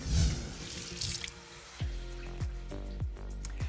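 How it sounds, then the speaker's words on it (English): Tap water runs into a kitchen sink while hands are washed after cooking salmon in an air fryer, a steady close splashing stream with a few clunks and bumps of hands against the basin. "I'm gonna put this in the sink and wash my hands."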